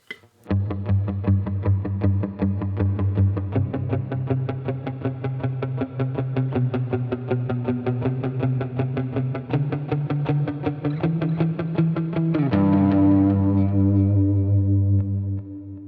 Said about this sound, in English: guitars come in with something that sounds a little like this